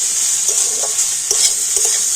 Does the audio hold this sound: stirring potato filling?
yes